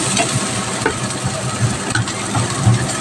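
Onions tossed into hot oil with golden-brown garlic for pinakbet, a steady loud sizzle and crackle with soft stirring scrapes throughout, no voices.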